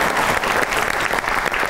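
Studio audience applauding guests on a comedy talk show, steady dense clapping throughout at close range, with no talk over it.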